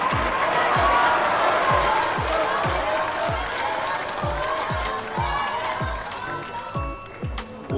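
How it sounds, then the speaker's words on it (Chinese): A studio audience gives a long round of sustained applause and cheering, loud and dense throughout, with a deep rhythmic thumping beat running under it. "请我们的观众朋友送一些掌声给到他们。"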